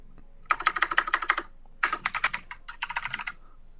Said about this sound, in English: it's actually like one of those like clicky keyboards